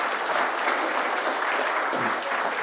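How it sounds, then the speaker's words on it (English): An audience at a skeptics' conference breaks into a round of applause, dense continuous clapping from a large room that holds steady throughout. "Let's have a round of applause."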